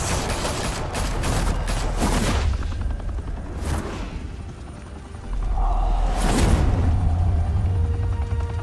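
Gunfire in Batman: The Telltale Series, several loud bursts of shots with booming impacts and a low rumble, broken by a brief lull before another heavy blast.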